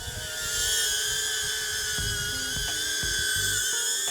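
A HOVERAir X1 ProMAX drone hovers nearby with a steady, high-pitched whining buzz of spinning propellers, constant and loud throughout with a few small clicks underneath.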